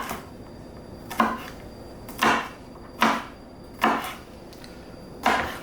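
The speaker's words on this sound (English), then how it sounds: "I'm just going to give them a rough chop." A knife rough-chops ingredients on a board for a Peruvian chicken marinade, five separate, fairly loud thunks spaced about a second apart over a quiet background.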